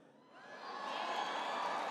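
A large crowd at a political speech cheering and whooping, swelling from quiet to a loud sustained roar within moments.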